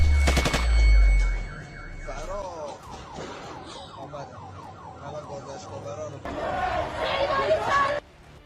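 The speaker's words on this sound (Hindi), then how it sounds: "तभी बाइक सवार पुलिसकर्मी उनका पीछा करके दौड़ती भीड़ पर गोली चला देता है।" Police fire on a crowd of protesters fleeing through the street during the unrest in Iran. A rapid series of sharp shots and crackling bursts runs for several seconds against loud ambient commotion, with an intense burst near the end.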